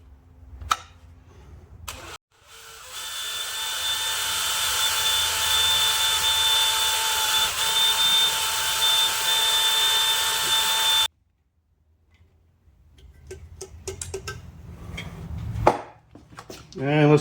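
A hole is drilled into a metal shaft on a knee mill, with a steady, loud machine whine and drone lasting about eight seconds before it cuts off abruptly, followed by quieter clanks and handling sounds.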